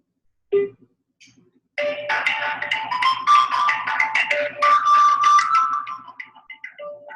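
A telephone rings on an outgoing call, heard as repeated ringback tones through a handset, with faint voices or line sounds mixed in around the rings.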